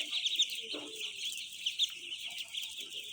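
A brood of three-day-old ducklings on a farm peeps continuously in high, thin chirps, with many overlapping calls at moderate distance and soft scattered background noises.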